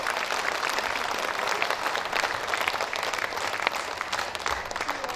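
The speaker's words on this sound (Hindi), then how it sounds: "पूरा सदन इन सब के लिए हाथ खड़े करके एक बार जोरदार तालियां बजाए।" An audience at a Hindi poetry gathering (kavi sammelan) breaks into loud, continuous applause, with many hands clapping densely and steadily throughout.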